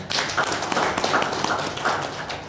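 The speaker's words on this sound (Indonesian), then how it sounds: "Tepuk tangan untuk kita semua." Audience clapping at an organizational meeting, a dense, continuous patter of many hands filling the room at moderate loudness with no speech over it.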